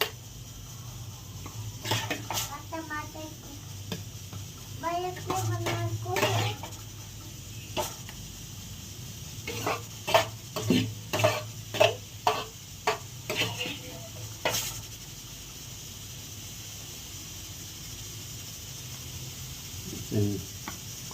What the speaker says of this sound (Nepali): यो फ्राई गरेको टमाटर ट्याक्क हाल्ने साथीहरू है।